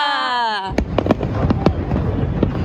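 Macy's fireworks show for America's 250th birthday, with several sharp explosions bursting over a dense crowd murmur after a brief musical tone at the start.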